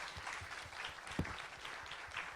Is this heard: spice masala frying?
no